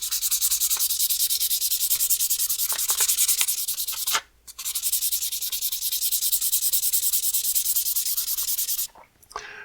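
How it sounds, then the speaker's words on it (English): A stained Stanwell 70 tobacco pipe is sanded to remove stain, giving a continuous close, loud rasping rub broken by two short pauses. "you got to sand down the stain you've put on."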